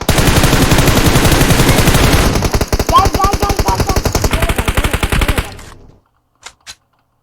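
Rapid automatic gunfire from a video game plays as a loud, continuous machine-gun burst of closely spaced shots that slows and stops, followed by two brief faint clicks.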